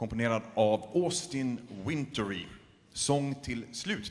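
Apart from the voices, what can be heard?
No distinct noise like a dog, phone or traffic.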